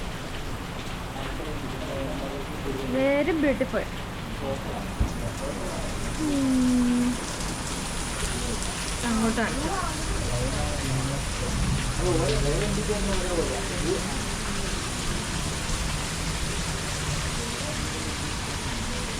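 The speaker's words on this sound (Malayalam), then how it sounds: "നല്ല മഴ, എന്ത് രസമാണ് മഴ." Steady rain hisses throughout at moderate level while people talk over it at intervals.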